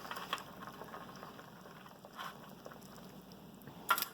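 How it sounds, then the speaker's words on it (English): Water boils on a camp stove, a faint, steady bubbling hiss dotted with a few sharper pops and clicks. "I think that's bubbling pretty good."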